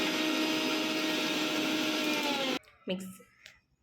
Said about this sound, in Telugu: బాగా ఫ్రై అయిన కొత్తిమీరని కూడా దాంట్లో వేసి మిక్సీ పట్టేసుకుంటున్నానండి